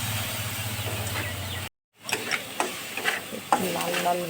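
Onions fry in a pan until browned, a steady hiss and sizzle with stirring clicks and scrapes, broken by a brief moment of silence before the sizzling resumes.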